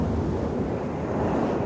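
Loud, rushing gusty wind roars over the surge of ocean waves in New Zealand, a dense, continuous blustery noise with no voices.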